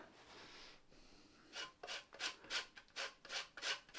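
Lemon zest being grated, heard as about eight quick, raspy strokes in a fast rhythm after a quiet pause. The scraping is close but soft, with no voices.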